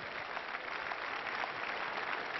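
A church congregation claps together during a live Sunday testimony service, a dense, steady wash of applause that holds evenly for the whole stretch with no voices standing out.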